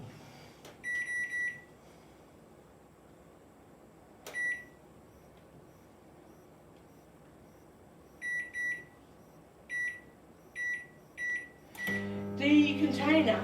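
A microwave oven heating pasta in a lidded container gives a low steady hum, punctuated by several quiet double beeps at intervals before a louder burst of clatter near the end.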